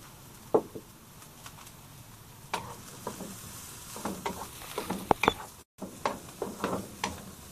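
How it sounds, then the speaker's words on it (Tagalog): Garlic and onion sautéing in a pan for pork menudo, a steady sizzle broken by scattered knocks and scrapes of a stirring utensil, close and moderately loud. "Medyo iluto natin yung ating bawang bago natin ilagay yung ating sibuyas."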